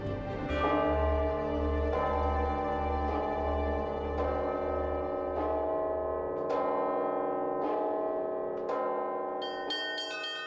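Church bells ring at Valaam monastery, with a deep, sustained low bell under repeated bright strikes that come about once a second, each ringing out and decaying; the ringing is loud and full, with no voices.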